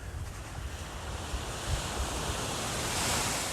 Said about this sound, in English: Look, Lovers Beach.